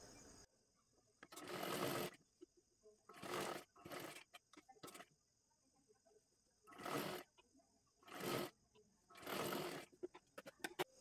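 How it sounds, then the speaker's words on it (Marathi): A sewing machine stitches a one-piece dress cut from saree fabric in several short whirring bursts separated by pauses, close and clear, with faint handling noise between runs. "आता इथे एकदम कडेकडेला शिलाई मारून घ्यायची आहे"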